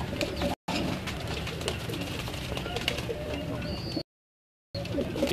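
Pigeons, including Tyson-breed birds, coo over and over on a rooftop in Gujarat. The soft, rolling coos come from close by and continue without pause, with faint background noise and human voices mixed in.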